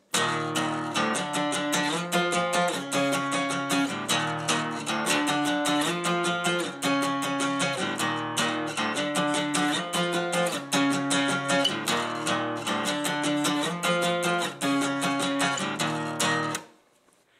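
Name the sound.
acoustic guitar playing a riff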